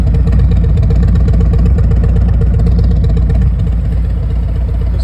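A 2020 Harley-Davidson Street Glide Special with Reinhardt exhaust idles loudly and steadily close by, its V-twin lope throbbing evenly throughout with no talk.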